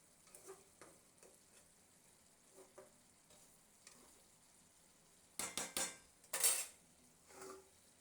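Spicy bojuri tengra fish curry being stirred in a pan, with soft scraping and faint sizzling, then a burst of louder metallic clanks and stirring scrapes near the end.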